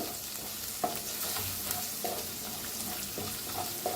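Turmeric and spices fry in a pan over very low heat. Soft, steady sizzling mixes with occasional light stirring scrapes, all quiet and close.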